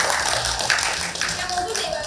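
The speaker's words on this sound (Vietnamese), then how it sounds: "5 4 3 2 1 vỗ tay." A studio audience at a television dating show applauds, giving fairly dense clapping at moderate distance while a voice talks faintly underneath.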